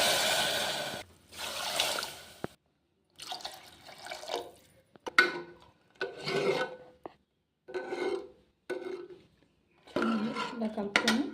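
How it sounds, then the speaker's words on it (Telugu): Water is poured from a glass into frying fenugreek dal in a pot, three rushing, splashy bursts separated by short pauses, close and fairly quiet. "దీంతో 3 గ్లాసెస్ వాటర్ వేసుకుంటున్నాను."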